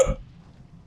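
One short, loud, close burp breaks out abruptly and fades within a fraction of a second, followed by quiet room tone.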